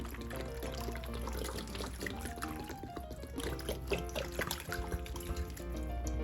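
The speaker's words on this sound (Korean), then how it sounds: "물을 붓고 이렇게 담가 주셔야 되는데요" Water pours steadily into a large box or plastic container to soak a dried shiitake mushroom growing block, a continuous close splashing under prominent background music.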